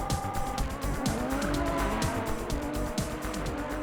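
A stunt car with a tubular steel frame and a 1,300cc motorcycle engine driving hard, its tires squealing and skidding in repeated bursts over a loud, steady engine roar.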